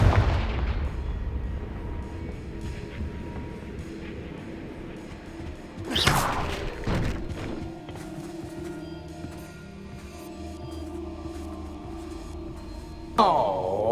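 A Confringo blasting spell explodes in the video game Hogwarts Legacy, a sharp boom mid-clip followed by crackling debris, with another burst near the end over a low, dark ambient drone.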